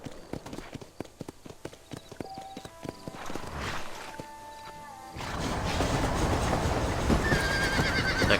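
Horse riding in Red Dead Redemption: hooves clip-clop in a quick steady rhythm, a horse whinnies, and then the galloping gives way to louder, dense rushing noise as the ride speeds up.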